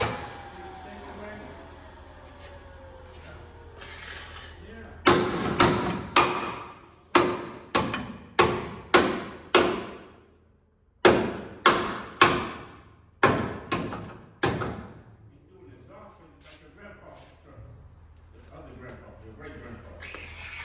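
Heavy hammer blows ring out in a truck repair shop, about a dozen sharp, loud strikes landing in quick bursts with short pauses between groups, over quiet background noise.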